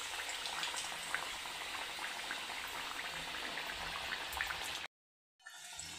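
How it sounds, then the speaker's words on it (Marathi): Potato cutlets coated in semolina frying in hot oil, a steady, even bubbling sizzle that cuts off abruptly near the end. "व्यवस्थित असा रवा लावून घ्यायचा आहे आणि तेलामध्ये सोडून देऊ"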